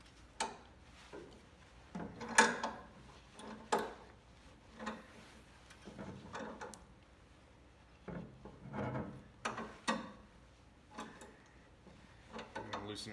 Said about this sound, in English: I'm just going to take this clamp and run it up tight against it, and then just start tightening it down